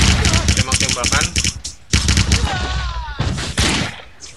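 Rapid bursts of automatic gunfire and explosive shots in the first-person shooter game Shelfire, loud and dense, with brief pauses between volleys.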